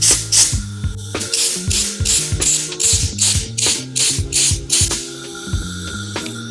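A compressor nozzle blows air under the grip on a Surron Light Bee X e-bike handlebar, giving a rapid series of loud, close hissing bursts over a low, humming drone.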